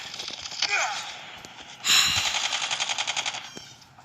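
Rapid shotgun fire in the mobile shooter Call of Duty Mobile, a dense volley of sharp repeated blasts with a loud burst near the middle, under game noise and a voice speaking.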